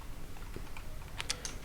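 Light typing on a computer keyboard in a home desk setting, a few soft scattered key clicks over steady low hiss, with a small cluster of sharper taps near the end.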